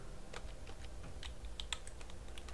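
Keys on a computer keyboard tapped in quick, irregular bursts during a PC gaming session, quiet and close with no voices.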